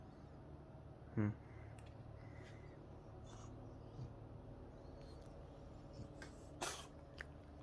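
A domestic cat sneezes once, a short sharp burst early in an otherwise quiet room, with a softer snort-like puff a few seconds later.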